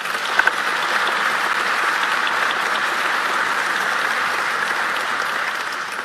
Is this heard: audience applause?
yes